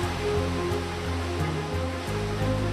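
A waterfall in the Amazon rainforest roars in a dense, steady, unbroken wash of rushing water that fills the whole moment, loud and close with no voices.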